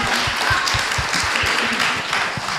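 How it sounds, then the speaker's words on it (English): An audience at an open mic session at an industry festival gives a round of applause, with dense, close clapping that stays loud and steady throughout. "I suggest that we now have a round of applause"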